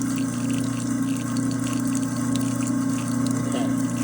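A kitchen garbage disposal grinds steadily while running with a Plink lemon cleaner, giving a constant motorized whir mixed with rushing water, moderately loud and unbroken, with no voices.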